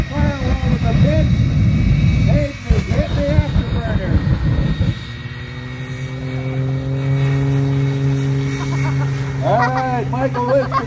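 Michael Wiskus's aerobatic plane takes off with a strong, droning propeller engine at the Oregon International Airshow. The engine drones loudly and evenly, its pitch shifting as the plane climbs, and a voice talks over it at the start.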